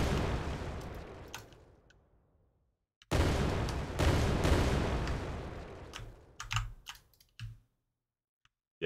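Grenade explosions in an Unreal Engine 5 game: two loud, broadband blasts, the first decaying over about three seconds into silence, then a second heavy burst with a long rumbling tail, followed by a few short clicks and thumps.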